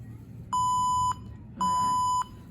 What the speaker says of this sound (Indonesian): dan buzzer pun akan berbunyi